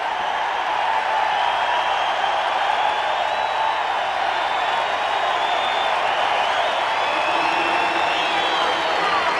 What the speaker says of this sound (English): A sparse but vocal crowd here today, and they appreciated that defensive stand.